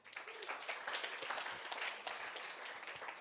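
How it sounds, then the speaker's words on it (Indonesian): Steady applause from a church congregation during a sermon, a dense wash of many hands clapping at once, moderately distant and continuous throughout. "Tepuk tangan untuk Tuhan kita."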